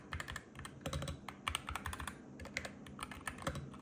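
Rapid typing on a keyboard with magnetic jade switches, close up, gives a dense run of crisp clacks and clicks with brief pauses between bursts and no voices.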